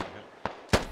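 Two sharp reports of British return fire in the military shooter Squad, one lighter shot followed by a louder, closer crack, over a low background of distant battle.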